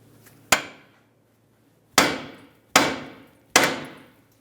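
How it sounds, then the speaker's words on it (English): Four sharp metallic hammer strikes on the steering knuckle of a 2006-2012 Ford Fusion during a front wheel bearing job, each ringing briefly and decaying, spaced irregularly in a quiet garage. "To separate this, you could carefully use a hammer and tap along this area of the knuckle."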